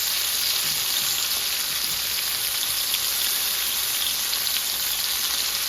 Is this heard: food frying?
yes